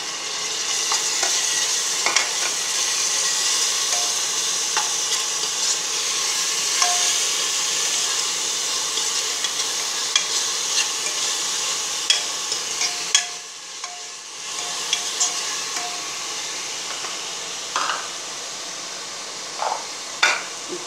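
Mint and coriander paste frying in a pan for Tamil tomato rice, a steady close sizzle with occasional clinks and scrapes of stirring and a short dip partway through.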